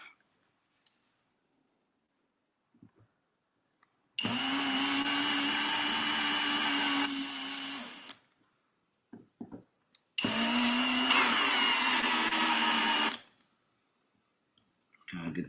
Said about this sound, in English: Let's go the rest of the way with the drill